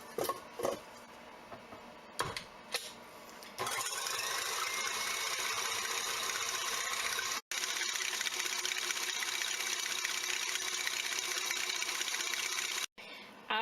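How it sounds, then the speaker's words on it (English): A stand mixer with a whisk attachment whips egg whites on high speed, a steady loud whirring motor hum with a rattling edge after a few brief starts, running on with two short breaks, no talking. "put this in the mixer, and I have a whisk attachment, and I find that whisking these on high works the best"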